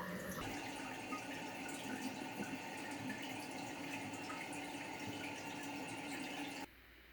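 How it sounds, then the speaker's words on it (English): Water runs steadily through a flexible supply hose into a Toto Washlet bidet toilet seat as the supply is turned back on, a loud continuous rushing hiss that stops abruptly near the end. "Turn the water back on and check for leaks."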